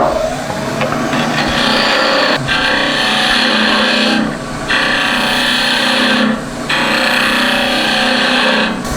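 Spindle gouge cutting wood on a running lathe while shaping a sphere, a loud, steady rushing hiss of the cut over the motor hum, briefly easing off twice as the tool lifts away.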